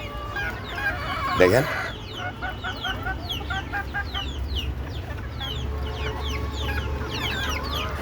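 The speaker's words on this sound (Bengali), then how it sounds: "ছাদে খোলা জায়গায় দেশি মুরগি পালন" Desi chickens cluck on an open rooftop while feeding on paddy, with a burst of loud calling followed by a busy run of short, repeated clucks; a person speaks briefly.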